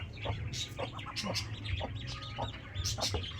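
A rooster and two hens cluck and murmur quietly nearby, with short intermittent calls over a low hum and scattered chirps.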